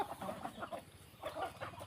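Chickens cluck close by in two quick runs of short, repeated calls with a brief pause between them and no talking.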